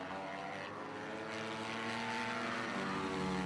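Honda supermini racing motorcycles in a British championship round at Three Sisters circuit, a steady rising drone of several high-revving small engines passing together, loud and continuous without pause.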